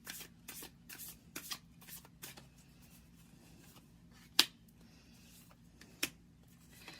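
Tarot cards from a Naked Heart deck are shuffled by hand in a quiet room: soft, close riffles and slaps in a loose rhythm, then a few sharp isolated card snaps.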